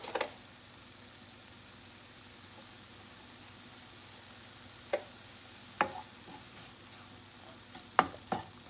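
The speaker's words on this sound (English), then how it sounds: "We're gonna fry this up a little" Bitter melon (karela) fries gently in a pan with a soft, steady sizzle, broken by a few sharp clicks and taps of utensil stirring toward the end.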